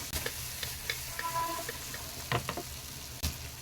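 Raw plantain pieces fry softly in a pan over a medium flame, with a faint low sizzle punctuated by a few scraping stirs and clinks.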